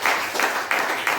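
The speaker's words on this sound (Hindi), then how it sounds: "एक बार जोरदार ताली दो।" An audience claps on cue, with four rhythmic bursts of applause at a steady, quick pace, close and fairly loud.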